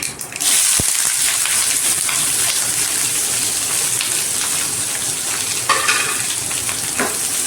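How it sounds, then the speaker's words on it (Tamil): Onions sauté in hot oil with curry leaves and green chillies, a steady loud sizzle and crackle that runs throughout. A spoon clinks and stirs now and then, with no talking. "வெங்காயத்தை நல்லா வதக்கிக்கலாம்."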